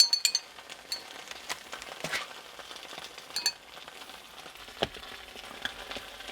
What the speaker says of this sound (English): We'll stir this up real quick.